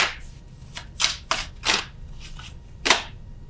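Tarot cards are shuffled by hand in a quiet room, giving six or so separate riffling, slapping bursts at irregular intervals, each short and close, with no talking.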